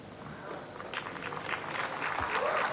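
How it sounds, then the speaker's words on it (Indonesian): An audience at a gathering applauds for an Indonesian farmer named Pak Joko, a steady wash of clapping from many hands that grows slightly louder, with a voice faintly audible underneath. "Kita tepuk tangan untuk Pak Joko"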